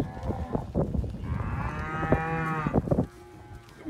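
A Brahman heifer moos loudly and close by, one long drawn-out call with rising and falling pitch, heard alone without talk.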